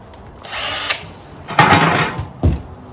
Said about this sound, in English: Simply attach it to the drill.